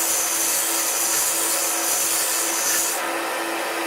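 Harbor Freight bench top belt sander running an 80 grit belt against wood, a loud continuous abrasive whirring and rubbing close by, steady throughout with a slight shift near the end, no talking.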